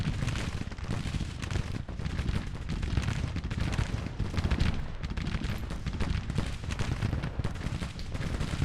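Continuous distant gunfire and artillery rumble from a Grand Tactician Civil War battle, a dense, steady roar of musketry with cannon thumps woven through and no voices.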